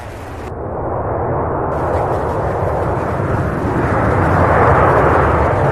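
An aircraft at Louisville International Airport gives a loud, close, continuous roar that builds slightly over several seconds, with no voices over it.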